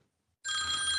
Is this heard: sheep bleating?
no